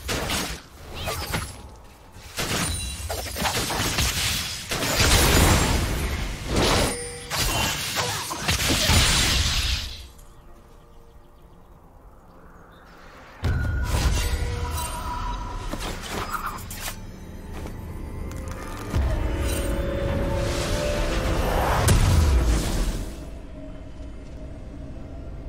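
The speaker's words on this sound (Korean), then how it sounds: "파랑 팀의 포탑이 파괴되었습니다." A turret is destroyed in League of Legends, with shattering crashes and whooshing impacts in bursts, a brief quieter stretch, then more smashing hits amid other game sounds.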